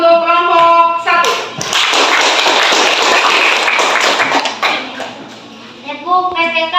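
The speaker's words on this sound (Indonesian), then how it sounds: "Ya, kita beri aplaus untuk kelompok 1." A classroom group is applauded by students, with a burst of brisk clapping lasting several seconds, and a teacher speaks before and after it.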